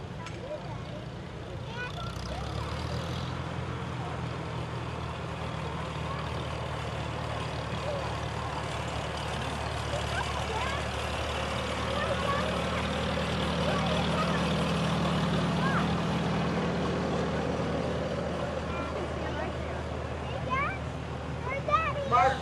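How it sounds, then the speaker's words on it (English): A 1953 Farmall Super H tractor rolls along in an antique machinery parade, its steady low engine drone continuous and fairly close, rising slightly as it passes, with a public-address voice talking over it. "Tim Gerlach is on top of this 1953 Super H Farmall"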